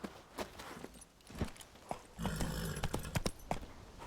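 Roach, the horse in The Witcher 3, gallops in the game with a quick run of hoof clip-clops, close and fairly loud, the beats bunching into a faster rhythm partway through.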